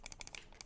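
Fingers tap quickly on a computer keyboard, a close, light run of about a dozen crisp key clicks in an uneven rhythm over less than a second, with no voices.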